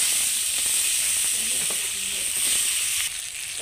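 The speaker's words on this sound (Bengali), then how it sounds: "পেঁয়াজগুলোকে ব্রাউন করে ভেজে নেব।" Chopped onions frying in a pan until brown, a steady bright sizzle and hiss that holds evenly, dropping slightly softer near the end, with faint stirring clicks beneath.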